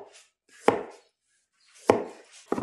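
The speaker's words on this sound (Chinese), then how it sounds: "最后切点黄瓜丝儿" A knife chops cucumber into fine shreds on a cutting board while sauced lotus-root noodles are being prepared. Three sharp, close thuds land with short rustling tails between them, and nobody speaks.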